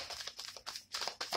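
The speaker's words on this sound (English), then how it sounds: "One more shuffle." Tarot cards shuffled by hand in a few quick, crisp riffling bursts, close and fairly quiet, separated by short pauses.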